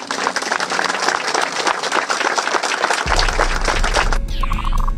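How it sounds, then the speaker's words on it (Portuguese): Mourners applaud at the funeral of police officers killed in an operation in Rio: a thick, continuous outdoor clapping that is moderately loud, with a low rumble and a tonal signal joining in the last two seconds. "Os policiais foram enterrados sob aplausos e homenagens."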